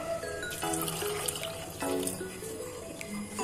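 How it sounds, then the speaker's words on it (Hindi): Water is poured into a cooking pot for a ragda recipe, making a steady splashing trickle that shifts in pitch as the pot fills, close and clear with no talk. "फिर इसमें ये पानी डाल देते हैं।"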